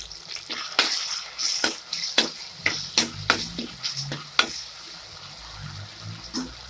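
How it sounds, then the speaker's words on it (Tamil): Curry leaves and tomatoes sautéing in a pan for a herbal kuzhambu, irregular sharp spoon scrapes and clicks against the pan over a light sizzle, close, with no talking. "நல்லா வதங்கிடுச்சு கருவேப்பிலை, தக்காளி எல்லாமே."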